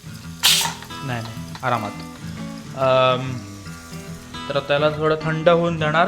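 A pressure cooker of black chickpeas lets out a short sharp burst of steam hiss, followed by fainter puffs, while someone talks over most of the clip.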